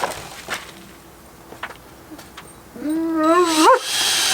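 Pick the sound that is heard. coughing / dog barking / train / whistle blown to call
dog barking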